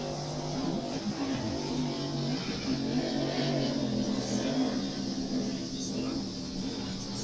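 Race car engines roar past during qualifying at the Chicago street race, a loud layered drone that swells and fades as cars go by, with a voice talking faintly underneath.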